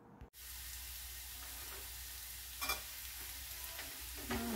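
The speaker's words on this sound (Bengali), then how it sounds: "এবার যেটা করতে হবে, তেলের মধ্যে পেঁয়াজগুলো প্রথমে ভেজে নিতে হবে।" Onions and drumsticks frying in oil in a pan for Kerala-style konch theeyal, an even close hiss of sizzling with a few louder bursts of stirring, quiet overall and without speech.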